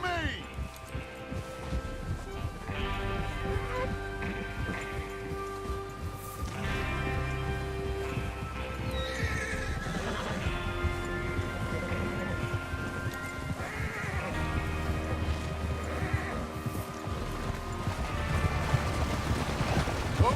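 Horses neighing and hooves clopping in the Red Dead Redemption 2 video game, whinnies rising over a busy outdoor scene with a gang of riders as people talk throughout.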